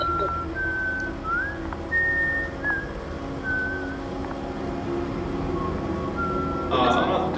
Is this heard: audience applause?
no